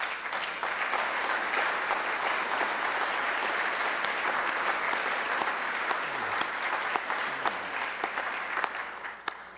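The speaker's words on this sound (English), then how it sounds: "it's the cash that gets the applause" Sustained audience applause fills a farewell reception and dinner, a steady dense wash of clapping from a large room that holds loud and even throughout with a few sharper claps near the end.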